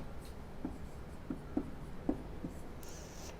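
Chalk or marker strokes on a board during a Sanskrit grammar lecture, a handful of short scratchy taps spaced about half a second apart, faint and close in a quiet room.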